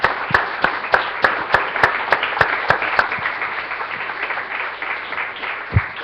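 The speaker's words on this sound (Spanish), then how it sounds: "Démosle un aplauso al Señor" A church congregation claps together in a steady, even rhythm that loosens into scattered clapping toward the end, sounding full and close in the room.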